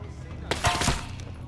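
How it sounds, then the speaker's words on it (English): Gunfire in the video game Ghost Recon Breakpoint, on Golem Island: a short cluster of sharp, loud shots bunched in the middle, set against a quiet ambient game background. "Someone's popping shots up!"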